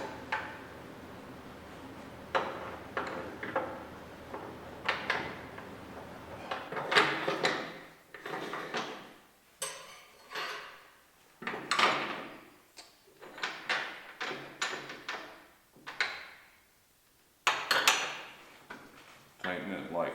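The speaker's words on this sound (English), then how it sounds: "So I'm just going to insert it into the T slot right here." A Felder clamp slid into a T-slot and tightened, producing a string of close metallic clunks, clicks and scrapes in an uneven rhythm, with a voice speaking in between.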